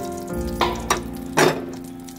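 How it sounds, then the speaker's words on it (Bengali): Eggplant slices fry in hot oil with a soft steady sizzle, broken by a few brief louder bursts of spattering, close and short. "বেগুনগুলো আমি একে একে ভেজে নিলাম।"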